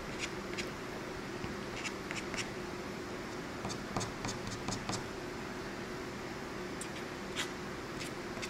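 Pen or marker scratching across paper while drawing a lion, with short strokes in quick irregular bursts over a steady low room hum, close and fairly faint.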